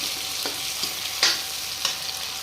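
Onions and chopped green chillies frying in oil in a pan, a steady soft sizzle with a few sharper scrapes of stirring spaced through it, alone without talk.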